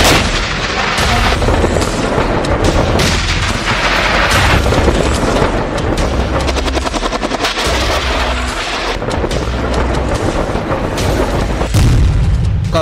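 Heavy artillery fire and explosions along the Pakistan-Afghanistan border near Torkham pound without pause: loud booms, rapid bursts like machine-gun fire and sharp blasts overlap into a continuous, close barrage.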